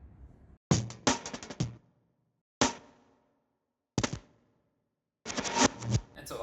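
Fast, chaotic drum fill built from stacked layers, one played in reverse and one slowed down, for a song blending hip-hop, post rock, drum and bass and hyperpop: several bursts of sharp hits separated by short gaps of silence, loud and close.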